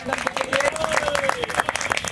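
Loud crowd applause at a public gathering in Aligarh, India, after a call for hearty clapping, with a voice speaking over the clapping.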